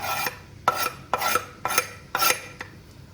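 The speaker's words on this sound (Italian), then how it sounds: "e facciamo soffriggere finché l'aglio sarà bello dorato" Garlic, parsley and chili pepper fry in olive oil in a pan, stirred with a utensil that scrapes in five steady, close strokes over a faint sizzle.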